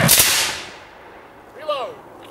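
A rifle volley rings out in a memorial salute, one loud, close blast that decays quickly, followed by a short, fainter vocal call.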